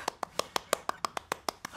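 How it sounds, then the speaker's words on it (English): A single person claps their hands in a steady rhythm, about eleven sharp, close claps in under two seconds, with nothing else heard. "Clap with me,"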